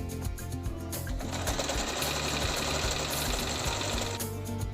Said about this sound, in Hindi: तो यहाँ पर मैं कच्ची सिलाई कर रही हूँ चारों तरफ।